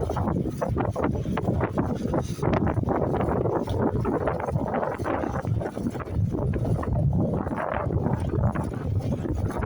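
A boat motor drones loudly and steadily as two brothers race across the water, with heavy wind buffeting throughout and no clear break in the rough, broadband roar.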